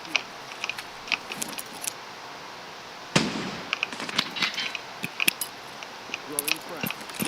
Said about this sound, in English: I could throw my own gas grenade at them